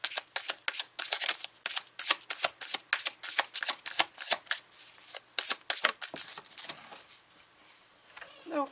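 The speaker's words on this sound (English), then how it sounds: "cards falling on the ground. Don't worry, it's carpet." Tarot cards are handled and shuffled, a rapid run of crisp riffling flicks and slaps, close and fairly quiet, before the activity trails off into softer rustles and a final tap as cards drop onto carpet.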